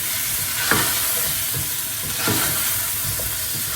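Spices and coriander powder sizzle in a pan for a chicken korma, a bright, steady hiss interrupted by a couple of stirring scrapes as the mixture is turned.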